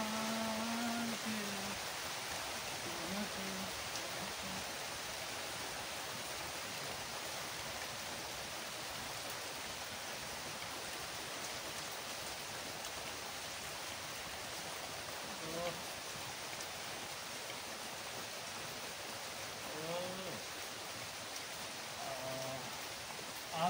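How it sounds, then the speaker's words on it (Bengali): Light drizzle falling outdoors, a soft even hiss of fine rain that runs unbroken throughout, with a few faint distant voices now and then. "এই হালকা বৃষ্টি পড়ছে ঝিরিঝিরি"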